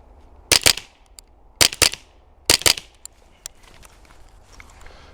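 Three sharp pairs of gunshots from a Ruger Charger 10/22 .22 pistol with a 9-inch threaded carbon-fiber barrel, loud and close, each pair quickly followed by the next. Faint clicks and rustling fill the gaps between them.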